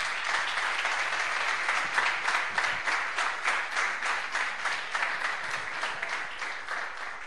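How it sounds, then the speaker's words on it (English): An audience at a retro game awards ceremony bursts into sustained applause, dense steady clapping that fills the room for several seconds without a break. "Big applause."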